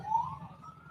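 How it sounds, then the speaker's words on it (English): A passing siren from a police car or ambulance at a rally town, one brief rising wail heard at moderate distance over low background rumble. "Might be an ambulance."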